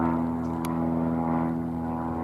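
A propeller airplane drones steadily overhead, a continuous low engine hum with strong tonal harmonics holding at a constant level throughout, with no voices.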